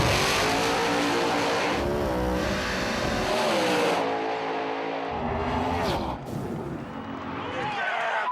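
Drag race cars roar down the strip at a Street Outlaws No Prep Kings event, loud engines revving and accelerating steadily over several seconds, the pitch climbing and then dropping away near the end.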